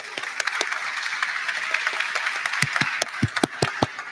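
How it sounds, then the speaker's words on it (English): Applause from an audience at an ETH Global crypto event, with dense steady clapping throughout that grows sharper near the end, where individual close claps stand out. "they should get a bigger round of applause than just ETH Global"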